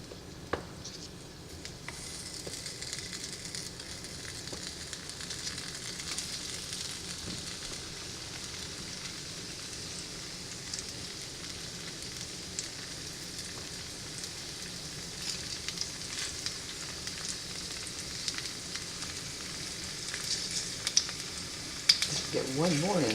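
Potatoes fry in a pan with a tablespoon or so of fat, giving a steady, moderately quiet sizzle and crackle that holds throughout, with a few small pops near the end.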